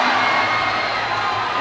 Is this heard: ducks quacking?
no